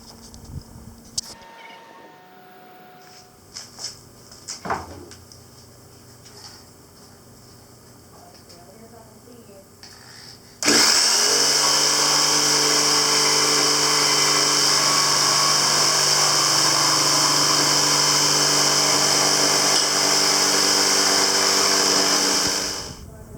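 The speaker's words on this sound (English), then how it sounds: "I just finished cutting out this piece of plywood" A power tool cutting a piece of plywood starts after a quiet stretch with a few knocks and runs loud and steady for about twelve seconds before stopping.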